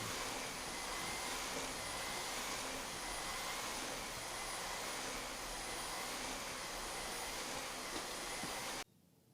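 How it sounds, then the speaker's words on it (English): A vacuum cleaner runs with a steady, loud whooshing roar for several seconds, then cuts off abruptly near the end. "I'll probably just vacuum some more."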